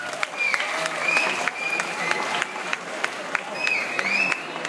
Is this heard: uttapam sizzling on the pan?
no